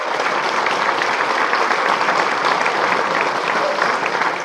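Enthusiastic audience at a Ron Paul birthday celebration rally breaks into sustained applause and cheering, a loud, even wall of clapping filling the room without pause.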